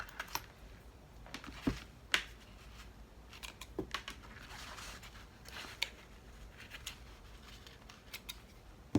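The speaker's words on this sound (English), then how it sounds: "I'm going to trim away this excess thread." Scissors snip away excess thread on a zipper pouch, a quiet series of sharp, irregular clicks and snips, close up and alone.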